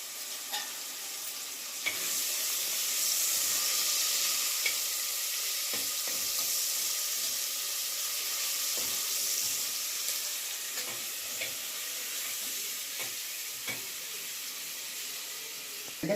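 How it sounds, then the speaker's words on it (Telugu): Slit green chilies fry in hot oil with a dense, continuous sizzle, punctuated by regular spoon taps and scrapes as they are stirred in the pan, close and alone. "వేగుతుంది."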